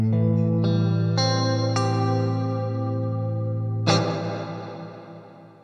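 An electric guitar through a Mr. Black Bloodmoon reverb pedal plays a few plucked notes and a final strummed chord, each ringing out in a long, lush wash of reverb that slowly decays.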